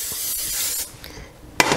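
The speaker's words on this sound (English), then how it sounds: "I'm just gonna spray my pan with some cooking spray." Cooking spray hisses onto a heating pan in a home kitchen, a short steady spray burst followed by a brief pause and a second quick spurt.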